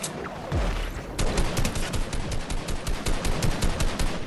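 Rapid bursts of automatic gunfire in Fortnite, a sharp crack followed by a fast rattling string of shots that keeps going, loud and close.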